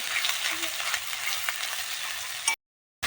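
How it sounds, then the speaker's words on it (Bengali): Spice paste of dried and green chilli, ginger-garlic, peanut and melon seed with turmeric, salt and a little water sautéing in a pan: a steady close sizzle that stops abruptly, followed by a brief silence. "মশলাটা এখন আস্তে আস্তে একটু কষিয়ে নিব"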